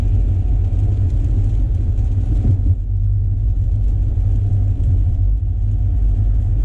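Highway traffic on Chicago's I-94 on a cold, rainy day, heard from inside a Tesla Model S, comes through as a steady low rumble of road and tire noise with no speech.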